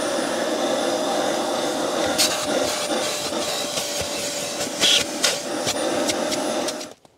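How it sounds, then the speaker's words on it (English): A vacuum cleaner runs steadily in a BMW's driver footwell after the accelerator pedal has been removed, a close whooshing drone with small rattles and bumps as the nozzle moves, cutting off at the end. "may as well give the area a bit of a vacuum"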